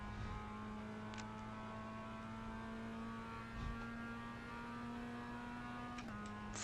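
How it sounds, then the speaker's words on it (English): A race car laps Virginia International Raceway North, its engine a steady, sustained tonal drone with a constant pitch heard from on board, fairly quiet and alone without talk, shifting slightly near the end. "Fully silent lap. Just enjoy the sound of the car."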